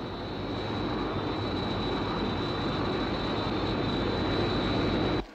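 The aircraft Sky One flies at altitude with a loud, constant roaring jet drone and a thin high whine riding on top, holding steady throughout before cutting off abruptly at the end.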